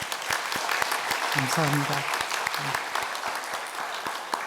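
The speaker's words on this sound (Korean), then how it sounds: "우리 교회 앞에 인사할 때 여러분이 뜨겁게 박수로 환영해 주시기 바랍니다" A church congregation applauds in welcome during a Sunday service, steady dense clapping filling the room throughout while someone speaks briefly over it.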